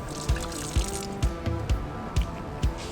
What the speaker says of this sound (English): I'm degreasing the blade so that I don't get contaminants in my acid. And I rinse it off.